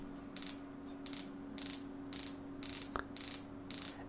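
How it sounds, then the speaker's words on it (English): Christopher Ward C60 watch bezel turning in a series of seven crisp, evenly spaced ratchet clicks, close and isolated against a quiet background. "Every click is so precise, every click is so discernible one from another"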